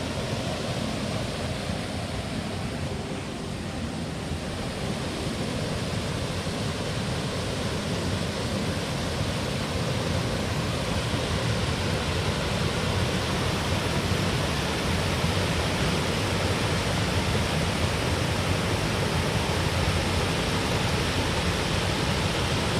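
Water of the River Mole flows steadily, a broad, even rushing wash that stays constant and fairly loud throughout with no voices over it.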